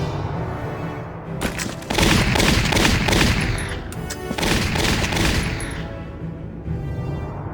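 Heavy gunfire in a shooter video game as a sniper is used, a dense, loud burst of repeated shots and booms filling most of the stretch, with brief lulls between volleys.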